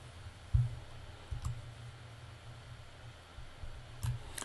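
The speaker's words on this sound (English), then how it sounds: "You're going to double click on the icon to open up the relay." A computer mouse clicks to open a desktop icon: a few short, quiet clicks spaced well apart against a hushed, near-silent room background, with no voices.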